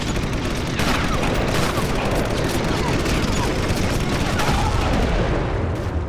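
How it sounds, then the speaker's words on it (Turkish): Tank blowing up in the World War II shooter game Sniper Elite, a loud, sustained barrage of explosive booms and crackling gunfire-like blasts filling the whole stretch without a break. "Tank havaya uçtu, biz de havaya uçtuk."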